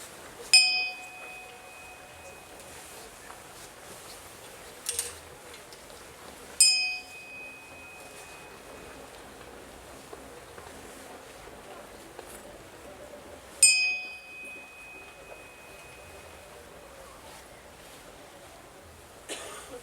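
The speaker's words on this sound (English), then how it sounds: "just listen to the bell, hear its resonance" A meditation bell struck three times at intervals of several seconds, each bright ding ringing out and resonating into a long fading tone, with a quiet room and soft background sounds between strikes.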